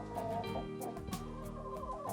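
Chickens cluck softly inside a henhouse, a low, continuous murmur of short calls with a few sharper clucks, faint and without speech.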